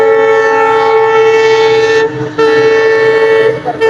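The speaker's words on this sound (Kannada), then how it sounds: "ಗೈಸ್ ಫೈನಲಿ ಬಂತು ಟ್ರೈನ್" A train passes close by, its loud horn blaring over the rumble of rolling cars, with one brief break in the horn before it sounds again.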